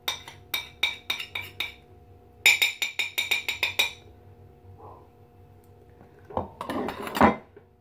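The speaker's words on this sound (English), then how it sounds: "Now to mix for the icing, all the icing ingredients together." A utensil clinks rapidly against a bowl while icing sugar and other icing ingredients are mixed, two fast rattling bursts of metallic taps close by, then a pause and a louder scrape and clatter.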